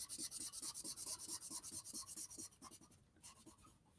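The chisel edge of a brush pen scrubs colour onto paper in quick, rhythmic back-and-forth strokes, close and scratchy, about twenty even passes that slow and thin out toward the end.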